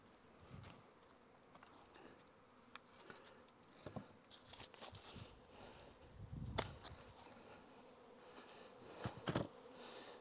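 A honey bee swarm that has lived in a box for a year buzzes steadily and nearby, with scattered knocks and handling noises over the continuous drone.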